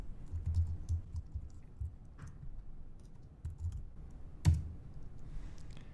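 Quick typing on a computer keyboard while entering an email address and password: steady, close key clicks in uneven bursts, with a sharper tap near the end and no talking.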